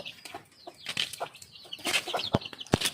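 Chickens cluck and chatter in short bursts, with a few sharp squawks and faint wing flaps nearby.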